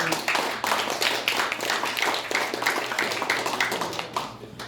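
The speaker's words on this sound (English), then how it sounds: "round of applause, please" Applause after a student presentation about coffee, a small group clapping with distinct individual hand strikes, fairly close and steady, tapering off at the end.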